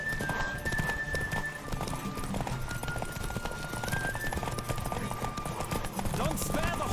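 Steady rhythmic hoofbeats of a galloping horse in a race in The Witcher 3: Wild Hunt continue throughout, with a faint tonal game sound playing over them.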